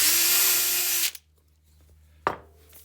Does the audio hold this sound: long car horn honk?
no